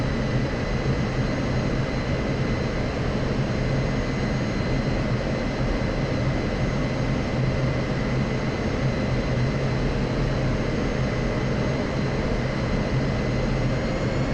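A steady, unbroken jet engine roar from an F-16C on a landing approach in the DCS World flight simulator holds at an even level throughout, with no voices over it.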